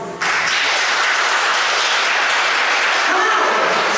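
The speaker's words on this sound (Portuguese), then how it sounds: "Aplauda Jesus." A church congregation bursts into sustained applause, dense and loud clapping from many hands that fills the whole stretch without pause.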